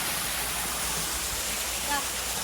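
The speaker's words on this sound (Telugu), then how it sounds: "ఇక్కడ చూడండి చిన్న గుహలు ఉన్నాయి, గుహల నుంచి వాటర్ పడుతున్నాయి" Water pours from small caves at a temple site in Gangwon, South Korea, a loud, continuous rushing hiss close by, with speech over it.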